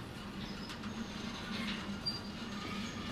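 A train runs in the railway simulator Derail Valley with a steady rolling rumble, faint clickety wheel noise and thin high metallic squeals appearing now and then over the constant drone.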